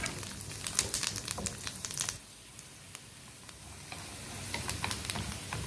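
Almonds fry in a pan for steamed beef and fried rice, giving steady close sizzling and stirring crackle that drops to a quieter hiss midway before the bright spatter builds again.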